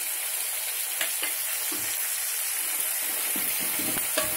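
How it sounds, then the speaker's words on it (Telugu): Coconut, dried chilli and garlic masala paste fries in a pan, giving a steady bright sizzle with a few soft scraping stirs, close and continuous with no talking. "ఈ పేస్ట్ కొంచెం 1 నిమిషం వేగాలి"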